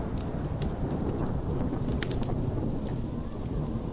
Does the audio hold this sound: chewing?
no